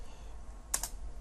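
A few quick keystrokes on a computer keyboard, two close clicks in a row over a faint steady hum while someone writes Java code, with no talking.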